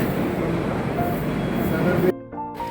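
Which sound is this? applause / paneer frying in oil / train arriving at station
train arriving at station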